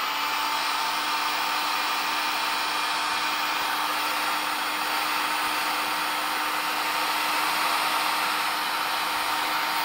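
A heat gun blows continuously and loudly while shrinking heat shrink tubing over a wire on a chassis-mounted IEC plug, a steady hot-air roar with no talk.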